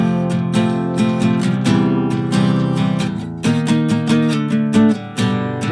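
Guitar strums through the bridge chords of a song, from a C over E to flat-seven and power-chord changes, in repeated rhythmic strokes up close with no voice.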